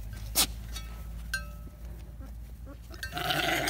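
Goats on a farm bleat in short bursts, one loud call standing out near the start and others scattered behind, with some clinking and a hiss of background noise.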